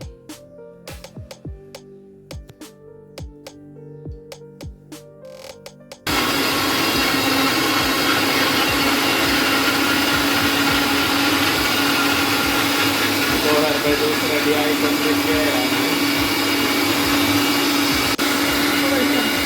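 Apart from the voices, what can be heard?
mixer grinder blending herbal juice with milk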